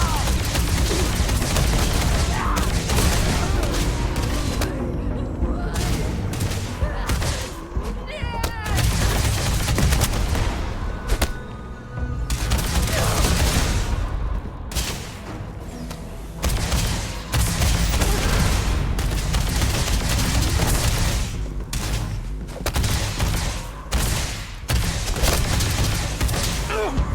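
Rapid gunfire in the sci-fi game Starfield, bursts of automatic fire and heavier booming shots crackling close and loud in clusters with short gaps, while a player talks throughout.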